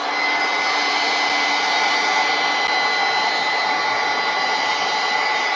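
A hair dryer blows steadily on mixed media artwork, a loud, continuous whirring rush that holds constant throughout with no voices.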